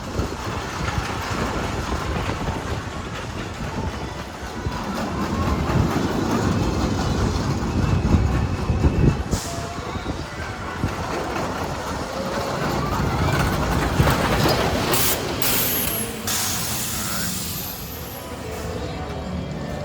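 Iron Dragon suspended roller coaster train rumbling along its track at an amusement park on a windy morning, a continuous loud roar with rattling, with voices talking over it.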